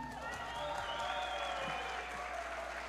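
Applause rolls steadily through a sales-master event crowd as a closing speaker is welcomed, continuous and fairly full, with cheers and a few voices mixed into the clapping.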